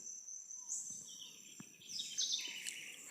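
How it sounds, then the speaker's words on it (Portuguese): A southern house wren sings outdoors in nature, with faint, high, quick chirping phrases over a soft insect-like background hiss. "Ouça o cântico da garrincha."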